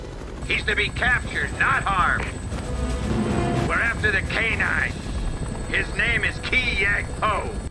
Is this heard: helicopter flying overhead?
yes